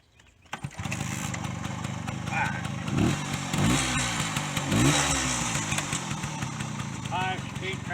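A small 1965 Suzuki K11 street-legal motorcycle engine kicks, catches and settles into a steady buzzing two-stroke idle with a few revs, heard up close and alone.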